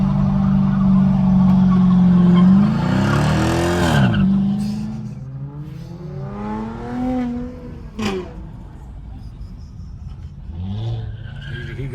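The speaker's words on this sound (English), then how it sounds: "they doing burnouts and shit" A car doing burnouts on the street, with engine revving and tires squealing loudly at first, then fading into softer revs and a few further squeals farther off.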